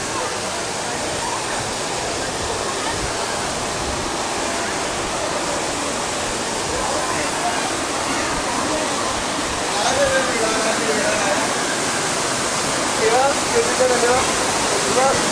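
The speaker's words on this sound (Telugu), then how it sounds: "చూడండి వాటర్ ఫాల్స్" A waterfall in the Aluru Kona hills, set among surrounding hills near a temple, gives a loud, continuous rushing roar of falling water nearby, with a person talking over it.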